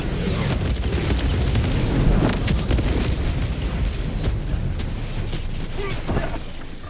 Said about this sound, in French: Je demande du frappe orbital